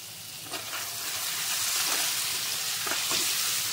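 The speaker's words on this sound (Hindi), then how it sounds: "1 मिनट के लिए भून लेंगे।" Spices with finely chopped ginger and green chili fry for mung dal kachori filling, a steady close sizzle and hiss that swells slightly, with faint stirring scrapes.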